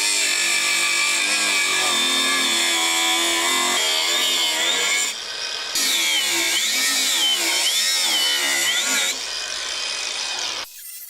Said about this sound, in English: I'm just going to cut all of the bad bolts off